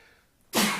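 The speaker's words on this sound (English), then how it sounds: "I had to sneeze" A single abrupt sneeze, loud and close, bursting out after a near-silent pause and trailing off within a fraction of a second.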